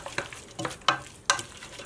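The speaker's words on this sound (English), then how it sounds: "I'm going to saute these vegetables until they're soft." Carrots, celery and onions soften in a pan as a soffritto, with scraping stirs repeating every half second or so over a low sizzle, close up and without voices.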